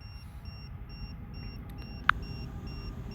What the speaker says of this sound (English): I can hear the LiPo alarm over there.